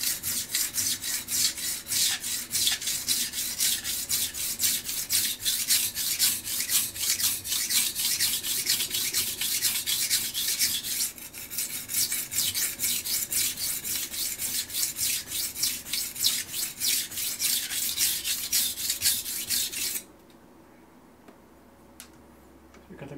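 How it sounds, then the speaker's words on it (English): A chipped knife is sharpened on a Shapton Pro whetstone with steady, rhythmic back-and-forth rasping strokes, close and even. The strokes break briefly midway and stop near the end. "I don't want to spend half an hour rubbing on this knife while you're watching."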